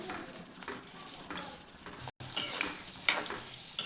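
Chilli pieces sauté in a pan over a low flame, giving a soft, steady sizzle broken by light scraping and clinks as they are stirred, fairly quiet and close.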